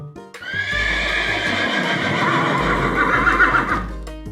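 A horse neighs in a long, loud whinny lasting several seconds, with a few clip-clop hoof beats at the start and end.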